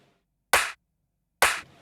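Dry, unprocessed clap sample struck twice, about a second apart, each hit sharp and bright with a brief decay, heard alone and up close.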